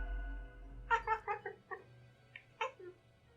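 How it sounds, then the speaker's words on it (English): Cat meowing in the video game Death and Taxes: a short run of several quick, mid-loud meow-like chirps in a cluster, followed by two more brief calls, over a quiet game background with no speech. "The cat repeats a sequence of contented meows."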